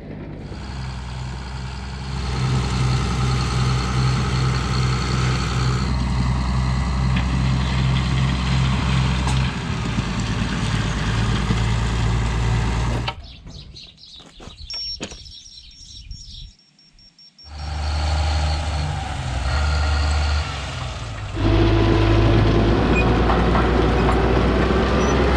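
Heavy trucks arrive at a construction site for earthworks on a photovoltaic hangar, with loud diesel engine rumble and rattling, a quieter clattering stretch in the middle, then the engines return at full volume.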